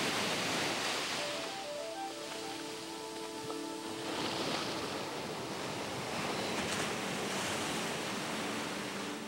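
Ocean waves wash onto a leatherback sea turtle nesting beach, a continuous hiss of surf with soft swells, a faint tonal sound in the background.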